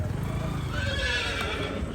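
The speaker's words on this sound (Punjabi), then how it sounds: "ਬਸ਼ੇਰੀ 15 ਮਹੀਨਿਆਂ ਦੀ ਰਾਜੇ ਘੋੜੇ ਦੀ ਹੈ ਨਾਗ ਦੀ ਬੋਤੀ ਆ" A 15-month-old horse filly neighs in one drawn-out, close whinny, loud and steady across the whole moment with no talk.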